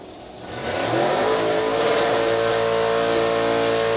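Drag race cars launching at a green light, a near engine roar that swells sharply within the first second into a sustained loud, high revving drone.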